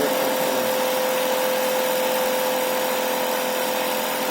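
A shunt DC generator runs steadily at 2500 RPM under an adjustable resistor load, giving a loud, constant mechanical whine with a strong steady tone and broadband hum, with no talk.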